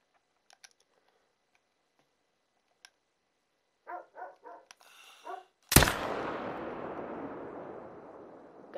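A single rifle shot at a reindeer in theHunter: Call of the Wild, on the Medved Taiga map. It cracks loud and close and rolls into a long fading echo, after a few short animal-like calls and faint clicks.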